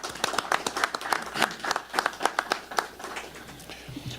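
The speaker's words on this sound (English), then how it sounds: "I think that deserves a round of applause." A modest crowd claps at a press event for an HBCU football bowl game, a scattered burst of distinct nearby handclaps that thins out toward the end.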